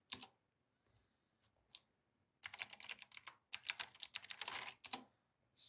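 Someone types an email address on a computer keyboard: a few isolated taps at first, then two dense runs of rapid, close key clicks, with no talking.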